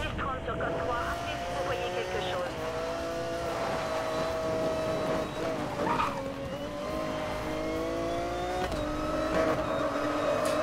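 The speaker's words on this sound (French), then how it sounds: "Et là, tu peux commencer à drifter." A car drifting in Need for Speed Most Wanted: a steady revving engine drone with sliding, squealing tires and shifting pitch runs throughout under a talking voice.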